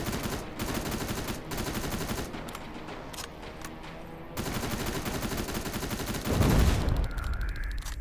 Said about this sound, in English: Big explosion.